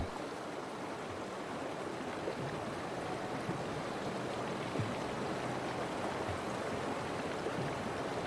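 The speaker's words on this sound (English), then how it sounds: "But the waters are cold and fast." Cold, fast-flowing river water rushing in a steady, loud, broadband roar that stays constant throughout, with faint splashes here and there.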